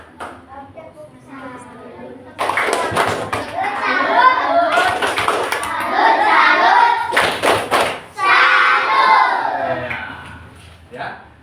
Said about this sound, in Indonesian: Yuk, kita beri tepuk salut.